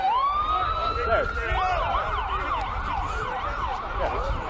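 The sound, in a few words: police sirens in the background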